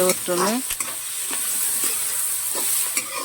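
Mutton gravy fries with a loud, steady hiss in a pan as a spoon stirs and scrapes through it; a brief voice sounds at the start over the sizzle.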